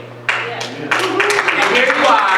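Broadband crowd applause, probably at a Washington State Democrats event, starting abruptly and swelling into steady clapping across the room. A low constant hum runs underneath.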